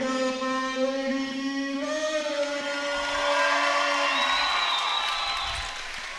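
A home crowd cheers and applauds in a gym as the Bigfork Valkyries volleyball team is introduced at Eureka. A sustained harmonic tone comes first, then broad, steady cheering swells and holds loudly to the end.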